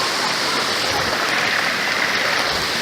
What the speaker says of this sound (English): I'm walking through like mid-shin deep water here.